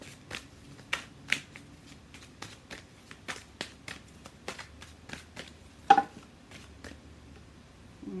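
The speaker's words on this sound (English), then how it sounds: "I'm going to grab some of the angel cards here." Angel tarot cards being shuffled by hand, a series of crisp, separate riffles and slaps at an irregular pace, close and fairly quiet with no talking.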